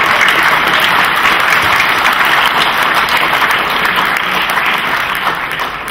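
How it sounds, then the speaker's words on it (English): Loud, sustained applause from an audience at a radio awards ceremony, dense clapping that holds steady and begins to fade toward the end. "so give him a round of applause"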